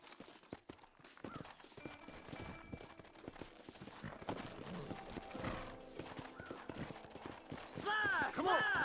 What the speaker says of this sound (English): Horses are over here!